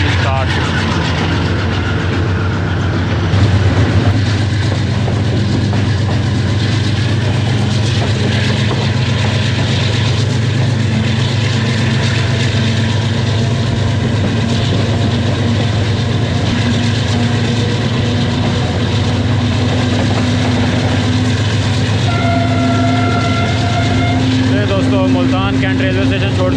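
15 Up Karachi Express hauled by an AGE30 Blue Tiger diesel locomotive leaving Multan Cantt station, a loud steady engine drone and rolling rail rumble building in pitch, with someone talking over it throughout.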